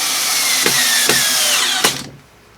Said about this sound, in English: So next, I put my screw in, take my screwdriver